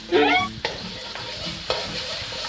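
Blended fermented soybean paste and garlic hit hot oil in a pan with a loud initial sizzle, then quieter frying as a utensil stirs and scrapes in a few distinct strokes.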